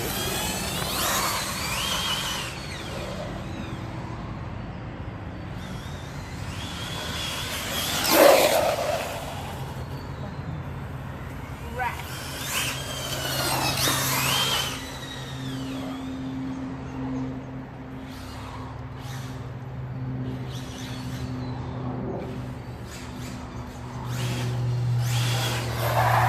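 A Hobao Hyper 7 RC car on 6S power, its boost turned down to 5, makes repeated high-pitched whining bursts as it speeds past several times. The whine rises and fades over a low background hum.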